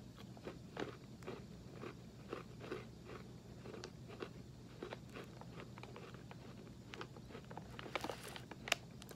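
Bud's Best crunchy vanilla creme sandwich cookies are bitten and chewed, giving soft, irregular crunches and munching sounds that are close but quiet, with no talking.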